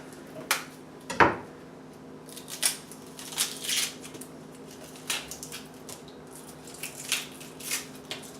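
A knife cuts the end off an onion while preparing a reduction, giving sparse sharp snips and clicks against a board at irregular intervals, fairly close and quiet over a steady low hum.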